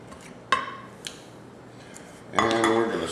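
Grilled pork chops being plated: a few sharp clinks of cutlery against dishes, one early knock, a lighter tap, then a cluster of ringing clatter near the end, against quiet room tone.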